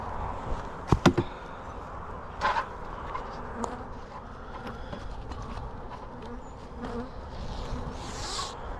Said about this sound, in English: They're also not terribly amused about me opening up the hive, which is fine. Which is why we're being buzzed.